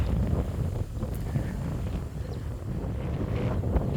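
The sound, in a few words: wind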